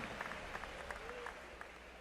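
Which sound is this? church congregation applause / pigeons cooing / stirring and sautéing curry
church congregation applause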